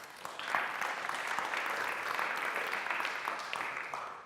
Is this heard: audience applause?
yes